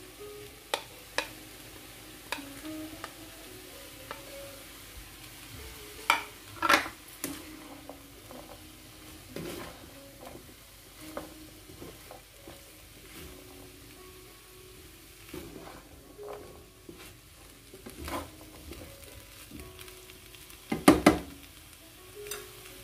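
Capsicum being stirred into a hot pan of frying tuna, with soft continuous sizzling broken by scattered spoon scrapes and clinks against the pan, a louder clatter near the end.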